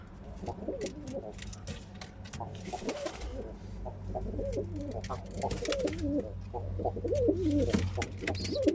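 Pigeons coo repeatedly in soft, throaty rolls, several birds overlapping close by, with faint rustling and a low background hum.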